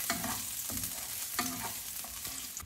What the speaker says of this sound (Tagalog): ilagay na natin ang ahos. At halo-haloin lang natin ng mabilisan, gano'n.